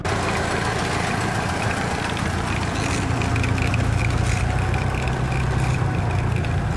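An old museum tractor engine runs close by, a loud, steady low rumble with rough mechanical chatter that holds constant throughout, with no talk over it.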